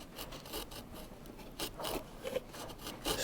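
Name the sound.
wood chisel scooping out guitar brace wood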